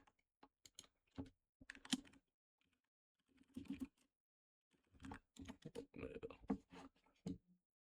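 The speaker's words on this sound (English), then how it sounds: "I'm one of those people that talk when typing." Keyboard typing in bursts of quick clicks with pauses between them, close and clear, while someone works on paint schemes for a Chevy model.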